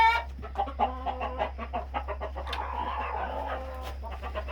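Chickens clucking at a market, a steady run of short clucks and squawks from several birds, fairly close, over a constant low hum of background noise.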